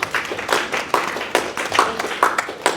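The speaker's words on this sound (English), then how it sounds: "The applause is for both papers." A panel-discussion audience applauds the speakers, a brief burst of steady, fairly close hand clapping with no talk over it.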